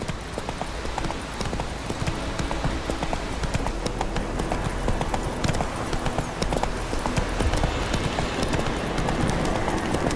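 Roach the horse trots in The Witcher 3: Wild Hunt, Blood and Wine, with loud, constant hoofbeats clopping in quick rhythm over a dense outdoor ambience.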